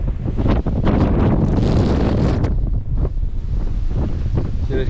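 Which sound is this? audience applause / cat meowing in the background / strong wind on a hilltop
strong wind on a hilltop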